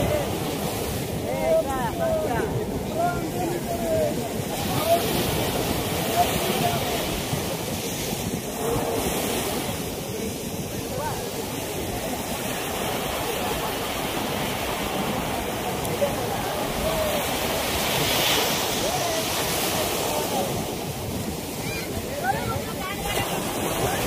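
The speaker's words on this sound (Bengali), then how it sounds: "তো গাইস দেখতে পাচ্ছ ঢেউ, খুব সুন্দর ঢেউ দিচ্ছে এখানে।" Sea waves at Daman on the Arabian Sea, a continuous roaring wash of surf breaking on the shore, with wind buffeting the microphone throughout.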